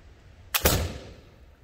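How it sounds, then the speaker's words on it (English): A wheellock gun firing as its pyrite strikes the spinning wheel, one sudden sharp crack with a brief secondary burst and a fading rushing tail, alone in a quiet setting. "bringing the cock with the pyrite down in contact with the pan cover, the weapon is now ready to fire"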